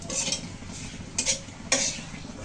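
Dried red chillies and bay leaves hit hot oil in a pan, giving a steady sizzle with three sharper bursts of crackle and clinks of a stirring utensil; no one speaks.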